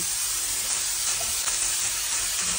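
Cabbage, zucchini and beans sizzling loudly in a pan with sliced chicken breast for pansit, a dense continuous close frying hiss with no talking.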